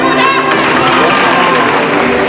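Loud, dense applause and cheering from a packed crowd in the stands at a gymnastics competition at Colombia's National Games, a steady roar of clapping and voices filling the whole moment.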